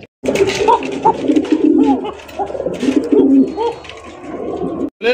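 Bombay fancy pigeons coo repeatedly in soft, throaty bursts close by, several birds overlapping in a continuous murmuring chorus.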